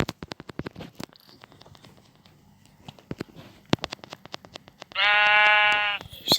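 Sheep in the Minecraft video game, heard as a short run of rapid clicking taps and then one loud, clear electronic bleat near the end. There is no talking.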